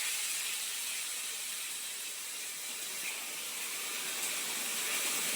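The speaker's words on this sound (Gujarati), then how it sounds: "શાક વઘારવાનું ચાલુ કરી દીધું છે" Vegetables are being tempered in hot oil on a home stove, giving a steady, even hiss of sizzling that stays constant throughout, close and moderately loud with no speech over it.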